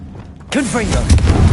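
A Confringo blasting spell goes off in a Harry Potter video game: a sudden loud boom erupts after a quiet start and rolls on as heavy rumbling debris, with a short wavering voice-like sound riding over the blast.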